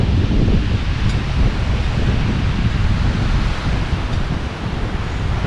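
Surf and wind at a beach entrance on Bear Island, Hammocks Beach State Park: a continuous close wash of breaking waves mixed with gusty wind buffeting the microphone, no voices.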